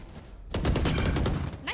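Gunfire in the tactical shooter Valorant, a sudden loud burst of rapid shots starting after a brief lull and running to the end, with faint voices underneath.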